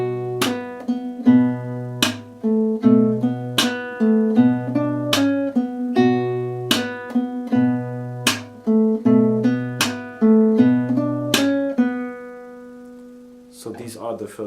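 A classical guitar plays the opening bars of a song slowly, with repeated low bass notes under plucked chords and sharp thumb slaps on the lower strings in a steady rhythm, close and clear, then fades near the end.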